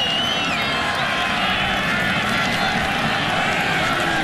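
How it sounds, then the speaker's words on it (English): Sustained crowd applause and cheering fills Memorial Stadium at a college football game between Iowa and Nebraska, a dense, steady roar of many people from start to finish. "A lot of applause here at Memorial Stadium for Jake Rudock."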